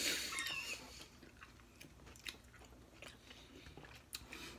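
Someone chews a large bite of raw sweet pepper, with faint, wet crunches and smacking spread across a few seconds after a louder rustle at the start.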